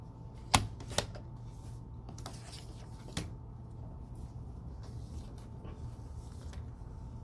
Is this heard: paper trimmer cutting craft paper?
yes